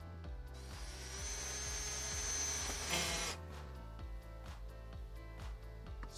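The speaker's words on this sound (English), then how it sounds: "I usually like to do a screw in the middle of the track" Power driver sinking a screw through permanent lighting track to secure it, a steady whirring drone for about three seconds that then cuts off, followed by quieter handling sounds.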